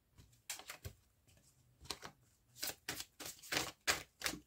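Tarot cards being shuffled and laid down in a quiet room, a run of crisp papery riffles and slaps coming in uneven bursts, close and fairly loud, with no talking.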